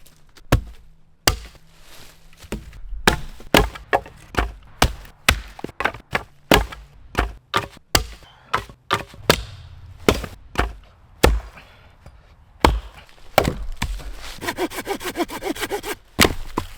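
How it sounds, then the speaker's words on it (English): Firewood is split and chopped at a rainy winter bushcraft camp, a long run of sharp, separate chops at irregular intervals, close and fairly loud, ending in a quicker burst of scraping strokes. "I'm done with processing all those wood. This is the kindling and this is the fuel."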